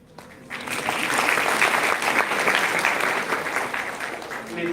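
Audience applause at a national seminar on nanotechnology and biodiversity, a sustained loud burst of clapping from a hall crowd that swells quickly and holds steady to the end.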